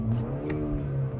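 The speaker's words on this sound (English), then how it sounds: "Now you could actually just hear the engine itself." A BMW engine revving with the sound system switched off, a brief mid-pitched rising and falling drone heard up close and on its own.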